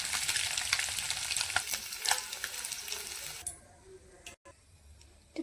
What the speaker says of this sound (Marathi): तर आपण चांगले तेलामध्ये फ्राय करून घेऊया आणि एका प्लेटमध्ये काढून घेऊया